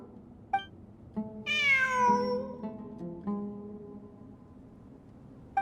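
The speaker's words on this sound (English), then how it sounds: "It really is a cat." Cat in the video game Genshin Impact meowing once, a long, clear, close meow that rises and falls, set against soft game ambience and a few faint tonal chimes.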